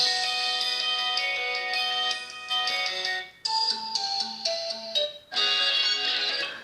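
Ringtone on an Infinix Hot 10 Play phone, a bright synthesized melody with sustained tones, played loud and near in three phrases with short gaps between them.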